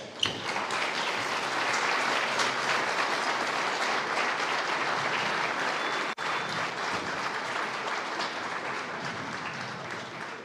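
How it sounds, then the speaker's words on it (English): Sustained audience applause at an Islamic centre gala dinner, a dense, even wash of many hands clapping that holds steady and full for about ten seconds with one brief dip near the middle. "Please join us in giving them a warm round of applause."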